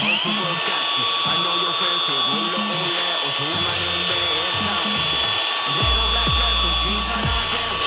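A GRAND MSHU 20 BL HS cordless angle grinder runs with a steady high-pitched whine while its kickback control is tested, the tone dropping near the end, with faint talk underneath.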